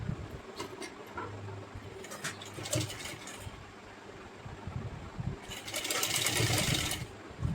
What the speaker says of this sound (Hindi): दोनों बराबर करके हम इसको यहाँ से कट करेंगे इस तरीके से और एक सिलाई और लगा देंगे।